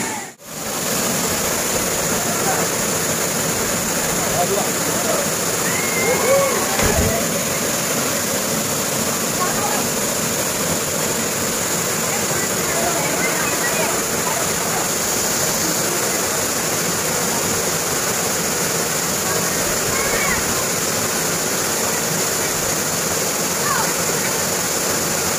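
Steady broadband rush of falling water at Pulo Simo waterfall in Riau fills the whole stretch, constant and loud, with faint chirps and a brief thump near the start.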